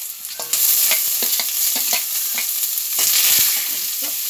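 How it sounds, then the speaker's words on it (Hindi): Finely chopped onion fries in hot oil with curry leaves, a steady close sizzle broken by repeated scraping taps of a spoon stirring the pan, with no voices. "अब डालते हैं बारीक कटी हुई प्याज"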